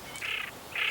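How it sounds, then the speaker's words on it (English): A pochard, a diving duck, gives two short, faint rasping call notes, one after the other. "Pochard."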